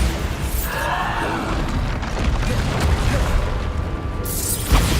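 A Bombarda spell detonates in Hogwarts Legacy, a loud boomy blast with crashing debris layered over a continuous rumble, ending in a sharper burst.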